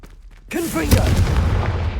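A Confringo blasting spell in Hogwarts Legacy goes off as a sudden loud explosive boom, followed by crackling fiery rumble that carries through to the end, with a short voiced shout just before the blast.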